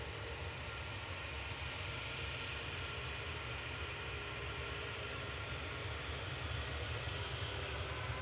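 Aircraft at Manchester Airport heard as a continuous, distant low engine roar that holds steady throughout without talk.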